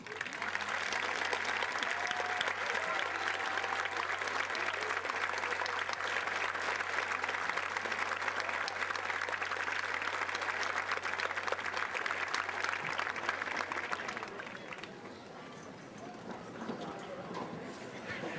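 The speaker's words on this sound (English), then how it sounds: "please stand and let us give you a round of applause" Long, steady applause at a high school graduation ceremony as parents and grandparents stand, a large crowd clapping continuously at even loudness before it tapers off and quiets near the end.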